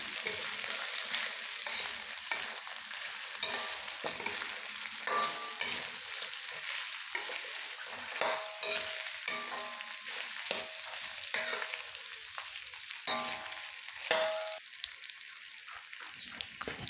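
Pork adobo with bay leaves is stirred in a pan, soft sizzling running throughout while a utensil scrapes and clinks against the pan in irregular bursts, no voices present.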